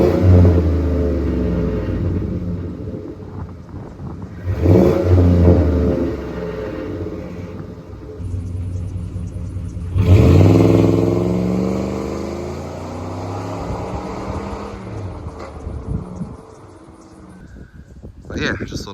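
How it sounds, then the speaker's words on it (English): A 2004 Ford Explorer XLT V8, rev limiter set near 3,000 RPM, gives a couple of short revs heard from a short distance, the engine rumble swelling and falling between idle stretches while someone talks over it. "But I'll give you a couple little revs anyway"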